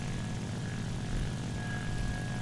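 Propeller warplanes such as a Yak-9 and a Halifax drone steadily in a game replay, a continuous, loud engine hum with a faint whine on top, no voices.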